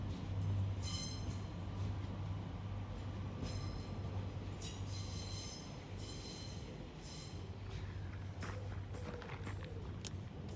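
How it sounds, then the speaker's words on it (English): A heritage railway train pulls away from a station platform on the Wensleydale Heritage Railway at Bedale, a steady low rumble and engine drone with intermittent higher squeals and clanks of wheels and wagons, continuous and fairly close throughout. "That's our train gone for today."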